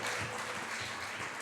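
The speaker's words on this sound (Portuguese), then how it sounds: "Dá uma salva de palmas para vocês," A church congregation claps during a Communion service, a faint, soft wash of scattered applause that holds steady for a brief moment.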